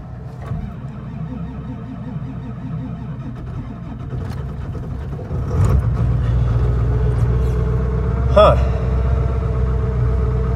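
An old truck engine cranks and catches on a cold start, turning over steadily before rumbling up to a louder idle, with someone talking nearby.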